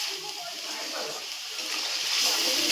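Water poured into a pan of spiced curry cooking in a rustic village kitchen, a continuous splashing hiss that grows slightly louder toward the end, close by with no clear talk.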